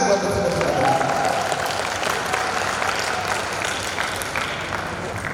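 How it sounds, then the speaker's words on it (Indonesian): An audience claps at a Class IX graduation ceremony of an Islamic junior high school in Bekasi, sustained steady applause that gradually eases over five seconds, with faint voices mixed in. "Tepuk tangan buat saudara-saudara."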